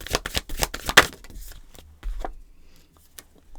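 A deck of oracle cards is shuffled in a brisk flurry of close, crisp riffles, followed by a couple of softer taps and thumps as cards are drawn and set down.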